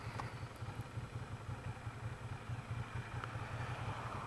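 A 2015 Ducati Diavel Carbon Edition motorcycle engine runs steadily in gear on the road, with a low, pulsing throb and mechanical clatter continuing evenly throughout without talk.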